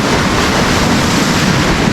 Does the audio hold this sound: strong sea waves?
yes